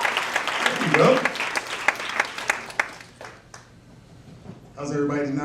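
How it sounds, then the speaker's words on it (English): A crowd claps and cheers for performers at a Chicago fashion and arts event, with someone talking over it. The applause thins out and fades, and then a voice carries on alone. "Y'all better clap up for the brothers, ladies and gentlemen."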